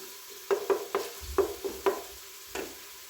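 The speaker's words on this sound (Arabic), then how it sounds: "حتى يتقلاو بيان، وتتقلى هذيك الطماطيش تاع الباطا" Potatoes and tomatoes frying in a pan: a series of soft scraping stirs and light clatters in an uneven rhythm, close and fairly quiet, over a faint sizzle, with no voices.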